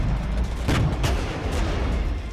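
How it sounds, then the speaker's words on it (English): Mortars fire in the WARNO war game, several distant booming reports punctuating a rumbling battlefield backdrop at irregular intervals. "we also have our mortars firing at these guys over here"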